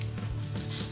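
Garlic hits a hot wok and gives off a short, soft sizzle with faint crackles, heard alone for under a second.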